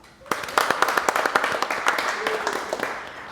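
An audience at an advocacy presentation claps for event sponsors, a moderate room of sharp, quick, irregular hand claps that starts suddenly and keeps going steadily for a few seconds.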